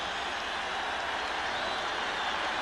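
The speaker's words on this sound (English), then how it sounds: "Crowd is loving this." Stadium crowd at a 1987 NFL game between the Los Angeles Raiders and San Diego Chargers, a dense wash of cheering and applause that stays loud and even from start to finish.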